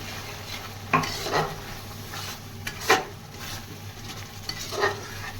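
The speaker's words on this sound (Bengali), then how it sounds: "একে ভালো করে কষে নিতে হবে ততক্ষণ না এর তেলটা উঠছে" Spice paste for a prawn malai curry fries in oil as a spoon stirs it, with a low continuous sizzle under several soft scraping strokes against the pan, fairly close and with no talking.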